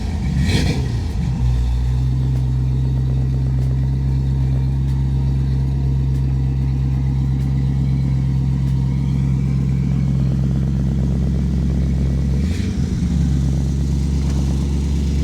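A 1933 Ford sedan hot rod with dual exhaust idles in a steady, loud, deep rumble close by. A brief rev swell comes at the start and another around twelve seconds, with no talking.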